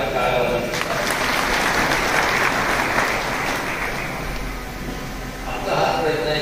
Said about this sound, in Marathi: त्यांच्यासाठी आपण टाळ्या वाजवू शकतो.